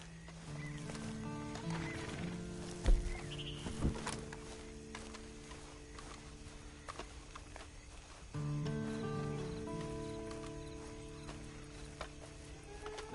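A horse snorts and whinnies while hooves clip-clop nearby, with harmonic neighing calls near the start and again later over faint rustling and outdoor background.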